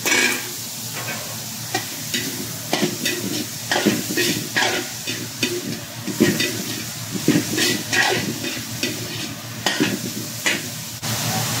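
Bitter gourd (ampalaya) stir-frying with pork in a pan gives a steady close sizzle, broken by repeated scraping and clinking strokes of a spatula, with no talking.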